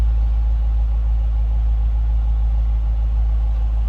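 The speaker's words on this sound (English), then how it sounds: "Nice little throaty exhaust note out of that." A deep, rumbling Hemi V8 exhaust on a 2016 Dodge Challenger R/T Shaker idles steadily and fairly loud, with a low throaty burble throughout and no voices.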